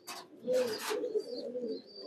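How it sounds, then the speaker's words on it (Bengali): Soft, low cooing of silver pigeons runs through the clip with a few brief rustles and a faint higher chirp; close and fairly quiet, no talking. "এটা সিলভার কবুতর"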